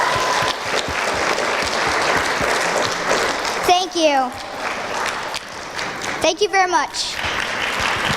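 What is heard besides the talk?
round of applause at a commencement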